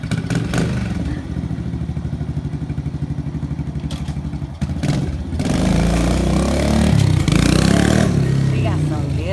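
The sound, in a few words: 2011 Kawasaki KLX110 pit bike engine revving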